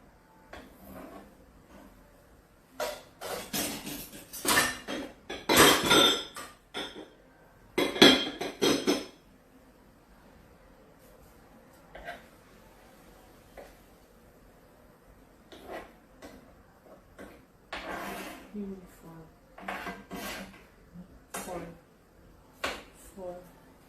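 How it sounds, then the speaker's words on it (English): A spoon clinks and scrapes against a cooking pot while spices are stirred in over low heat for a Nigerian meal, with bursts of metallic knocks and clatter separated by quieter pauses. "Now I'm stirring and allowing the spices to go in."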